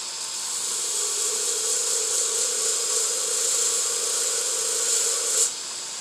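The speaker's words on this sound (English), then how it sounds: "I actually grind it vertically all around." Steel sword blade being ground vertically on a grinder, a steady continuous bright rasping hiss held close and loud for several seconds, ending with a brief flare near the finish.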